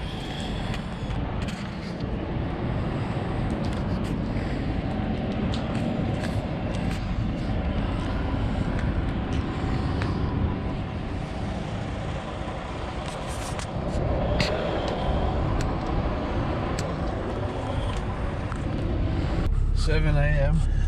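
An old Cummins diesel truck driving while towing a heavy 4,500-pound trailer, a steady loud low road and engine drone heard from inside the cab, with someone talking over it.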